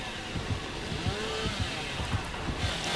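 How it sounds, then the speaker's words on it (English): A killer's chainsaw revs in the Dead by Daylight video game, a steady buzzing engine drone with rhythmic pulses heard throughout, at moderate loudness. "Definitely want to line of sight that chainsaw."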